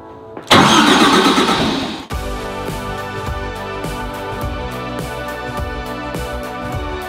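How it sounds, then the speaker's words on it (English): A truck-mounted carpet cleaning unit's engine cranks for about a second and a half, catches, then settles into a loud, steady rhythmic idle heard up close, with no talking. "Let's go ahead and start at the truck mount and go through this exact process"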